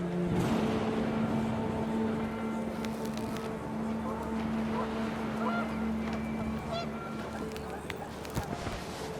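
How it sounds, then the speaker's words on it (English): Panicked geese honk in the game What Remains of Edith Finch, with several calls rising over a steady windy, rumbling backdrop and a voice murmuring in places. "The wind picked up, and panicked geese appeared and quickly went"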